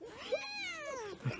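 A cat being held lets out a single drawn-out, rising and falling meow of protest, close and clear, with brief rustling before and after.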